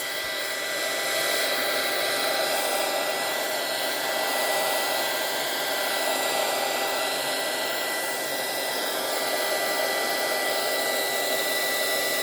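A hair dryer blows steadily on a junk journal page, its loud, continuous whooshing hum filling the whole stretch without a break.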